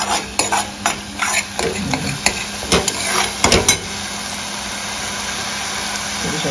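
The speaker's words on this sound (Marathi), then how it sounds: "आणि आता ही चांगली परतून घ्यायची" Garlic and ginger paste being sautéed in a pan for a Malvani clam curry, with sharp spatula scrapes and clatters over a steady sizzle; the stirring stops partway and a low hiss continues alone.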